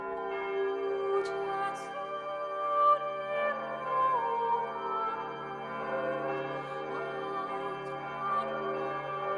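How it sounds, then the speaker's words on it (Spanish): Church bells ring together in a dense, overlapping peal, their long resonant tones sustaining and layering steadily throughout. "Levantaron sus cabezas al oír las campanas."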